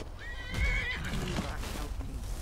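A horse in Skyrim gives a loud, quavering whinny, followed by the muffled thuds of hooves and movement in a game fight.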